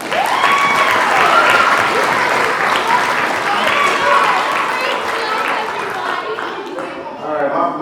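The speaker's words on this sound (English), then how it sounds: "Let's give these athletes a round of applause" A banquet audience applauds high school football players with loud, dense clapping that holds steady before slowly thinning. Cheering voices and chatter mix in throughout.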